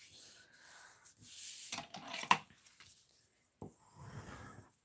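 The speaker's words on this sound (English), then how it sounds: "let me start off and fold and burnish my card base." Paper card base being folded and burnished for a Christmas card, heard as a few close, soft rubbing and sliding swipes with a sharper crease tap midway and quiet pauses between strokes.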